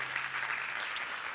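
A short burst of audience applause at an economics talk, a steady wash of many hands clapping at moderate volume with no voices over it.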